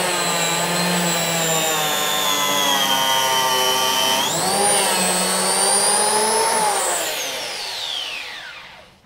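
A Virutex CE223X electric planer cutting wood, its steady whining motor running for several seconds, pitch rising partway through, then winding down and fading at the end.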